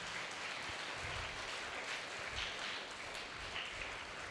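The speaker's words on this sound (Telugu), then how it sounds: "అందరికీ మనం మరొకసారి గట్టిగా చప్పట్లు కొడదాం." A crowd of children at a summer camp applauding loudly for the kitchen staff, with dense, sustained clapping throughout and no talk over it.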